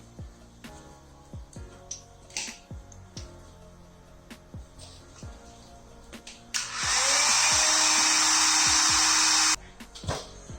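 Heat gun shrinking heat shrink tubing over extended headlight wires on a GT86, a loud rushing blower roar lasting about three seconds, preceded and followed by scattered clicks and handling noises.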